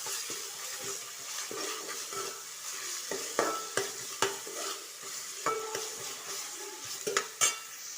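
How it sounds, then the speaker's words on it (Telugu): Ginger garlic paste frying in a hot tempering for veg pulav, a steady sizzle with a spoon stirring and scraping the pan in irregular sharp knocks, close and alone without talk. "ఇందులో కొంచెం అల్లం వెల్లుల్లి పేస్ట్ వేసుకోవాలి. బాగా ఫ్రై అవ్వనివ్వాలి."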